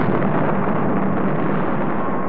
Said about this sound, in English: 3 days later, the bomb is used again.